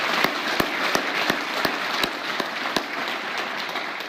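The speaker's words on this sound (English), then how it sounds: "Please give everybody a round of applause." An audience at an Interstate 555 dedication ceremony applauds, with scattered claps and a few sharp louder hand claps standing out from the steady patter over about four seconds.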